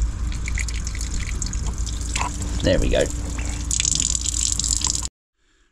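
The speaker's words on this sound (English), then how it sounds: "Just waiting for the tank to top up again after I pump the water through the system." Water trickles and drips steadily into an RV fresh water tank as it tops up, with someone speaking briefly midway before the sound cuts to silence.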